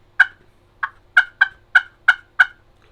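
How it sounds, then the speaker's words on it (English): Seven sharp, clipped turkey putt notes struck on a slate call, evenly spaced, close and loud against a quiet background. "That gives you like a putt."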